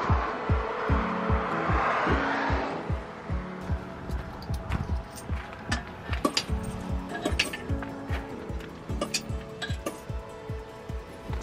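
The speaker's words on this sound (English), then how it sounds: "I'm just cutting up some cheese and onion to have with it as well" Cheese and onion being cut with a knife on a board, a run of sharp repeated taps and knocks at a steady chopping rhythm, close and fairly quiet, after a brief rushing noise at the start.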